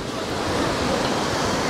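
Sea waves and surf wash steadily onto a beach at Anapa, a constant broadband roar with no breaks and no voices, fairly loud and close.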